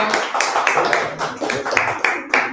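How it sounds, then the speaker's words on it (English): A small group claps for a host at a community meetup in a Las Vegas office, the rapid, uneven claps close and steady throughout with a murmur of voices mixed in. "Big round of applause to her."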